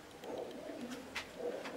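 Soft, low coos from Uzbek pigeons repeat a few times over a faint outdoor background, with a brief higher chirp in between.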